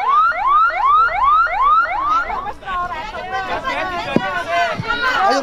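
An emergency siren wails in rapid rising sweeps, then shifts to a faster warbling pattern, loud and close, with people talking in the background.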